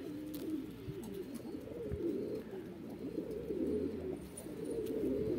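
A Van homing pigeon, back at its loft after seven days away, coos softly and repeatedly in low rolling notes against faint background noise.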